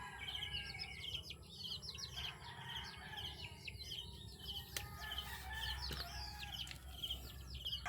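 Chickens cluck in a farmyard with roosters among them, a busy flock chattering in short repeated notes over steady background noise, with an occasional wing flap and no talking.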